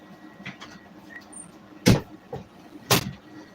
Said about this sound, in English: Shut the door for me, man.